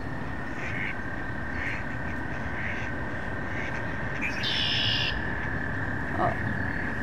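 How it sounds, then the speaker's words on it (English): A red-winged blackbird calls outdoors, a buzzy burst near the middle rising over a steady background of birdsong and rustling ambience, with other birds faintly around. "Red-winged blackbird."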